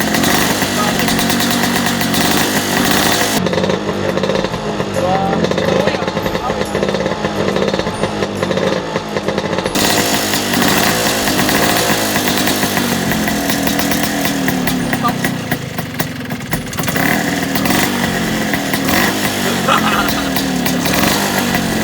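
A Vespa scooter engine runs steadily and loudly with colored smoke bombs burning in its exhaust, a continuous rough buzzing drone throughout with no speech.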